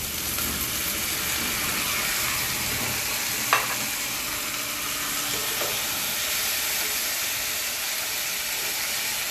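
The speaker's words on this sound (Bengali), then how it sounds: "টমেটো কুচি দিয়ে ভালো করে নেড়ে নেব।" Chopped tomato and capsicum stir-fried for an egg tarka, giving a continuous close sizzle with a couple of brief scraping clinks from stirring, no talking.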